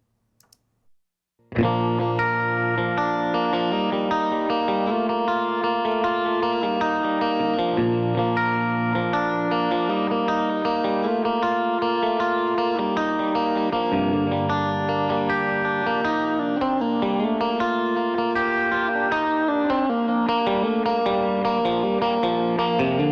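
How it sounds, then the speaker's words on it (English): Electric guitar run through a Retro Instruments Powerstrip tube channel strip, with a warm, driven tone playing sustained chords and melodic lines, thick and slightly distorted with some chorus-like shimmer, loud and continuous after a brief pause. "check out the sound I came up with running that same guitar through the Powerstrip"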